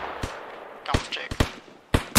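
Suppressing gunfire toward a lighthouse in the video game Arma Reforger: several loud, sharp rifle shots arrive in uneven bursts close by, with quieter gaps and distant reports between them.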